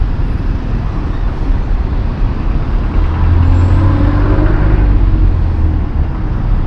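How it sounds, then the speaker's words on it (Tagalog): Trucks passing on a busy road, heard as a loud, steady low roar of traffic with heavy engine rumble swelling as a large vehicle goes by close. "Dami truck guys."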